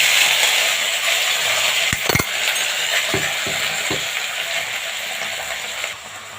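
Cut mango pieces fry in hot mustard oil with dried chillies and mustard seeds, making a loud, continuous hiss up close, with a few sharp utensil clinks against the pan partway through.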